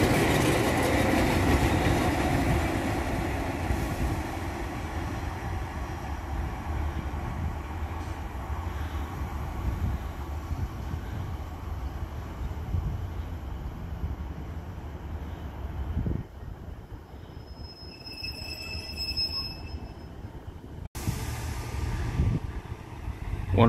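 A Class 143 Pacer diesel railcar pulling away on the Valley Lines, a loud rumbling engine and wheel noise close by that slowly settles, with a brief high squeal and a sharp knock near the end; no talking.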